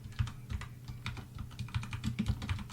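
Rapid clicking of a computer keyboard as Python for-loop code is typed, keystrokes close and fairly steady in quick irregular bursts with no talking.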